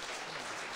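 An audience at a songwriter round-up concert at a winery claps in a dense, steady burst that fills the short moment on its own, with no talk over it.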